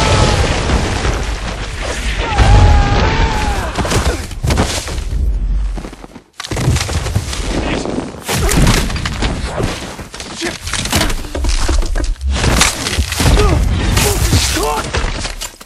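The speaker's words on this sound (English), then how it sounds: "the weapons hit the ground, the bodies then hit the ground" Film sound effects of weapons and bodies slamming into the ground form a dense, loud run of heavy booms, thuds and crashing impacts, with a brief vocal sound early on and a short lull in the middle.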